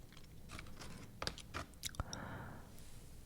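Close-up chewing of a crunchy holiday snack topped with red and green sprinkles: quiet, crisp crunches and bites in a quick irregular series, with no voices.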